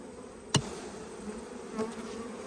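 A dense swarm of honey bees buzzes steadily nearby during a hive inspection, with a single sharp tap on a frame edge cutting through the hum.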